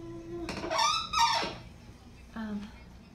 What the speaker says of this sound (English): it's got like a sliding door, ooh, which is really screechy